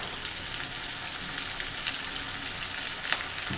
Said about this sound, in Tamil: ஒவ்வொரு பீஸும் எண்ணெயில் போட்டுடலாங்க.